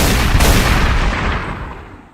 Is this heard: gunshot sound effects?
yes